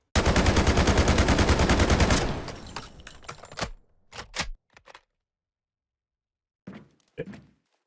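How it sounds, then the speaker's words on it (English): A rapid, unbroken burst of automatic gunfire from hip fire without recoil control in the shooter game Delta Force rattles loudly for about two seconds, followed by a few scattered mechanical clunks and thuds, with no talking. "So this is just hip fire"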